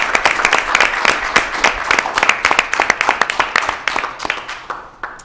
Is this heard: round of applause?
yes